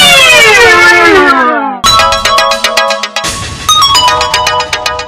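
A phone ringtone rings loudly in a Telugu TV serial scene, opening with a long descending electronic sweep and then moving into a rapid, repeating tonal chime pattern with no talking over it.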